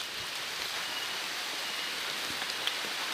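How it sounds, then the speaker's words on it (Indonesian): Steady rain patters on a plastic sheet over a seedling nursery, a dense even hiss with occasional louder drops. "turun hujan"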